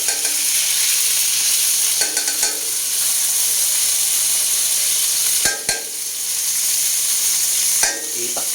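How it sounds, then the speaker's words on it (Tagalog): Food, including canned tuna, sautés in a pan with a loud, steady sizzle, punctuated by a few scraping stirs and clanks of a utensil against the pan. "Gisahin po natin."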